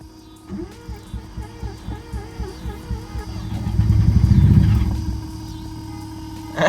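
A 1980s Mazda RX7 FB GSL-SE rotary engine cranks with a rhythmic starter chug, then catches and fires into a rough, loud idle after sitting unused for 16 years, recorded up close.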